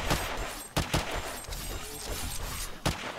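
Gunfire in the video game Alpha 19 with the War3zuk AIO Mod: a handful of loud, punchy shots spaced irregularly over dense, rumbling background noise.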